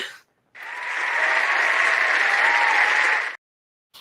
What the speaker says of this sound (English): Where's the clapping? You're right. Hold on.